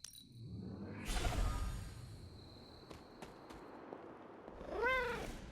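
Ebony the cat meows in the video game Marvel's Midnight Suns, a short rising-and-falling meow near the end after a whoosh and soft ambient sounds, fairly close and clear with no talking.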